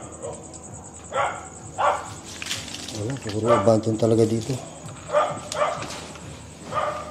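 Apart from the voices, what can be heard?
dog barking in the distance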